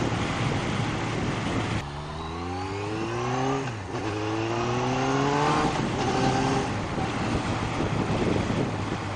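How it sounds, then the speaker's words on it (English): A close motorcycle engine drones under heavy wind buffeting on a countryside B road, its exhaust note rising in pitch as it accelerates through the gears, dipping briefly between shifts. "Oh, I do love the sound of them exhausts."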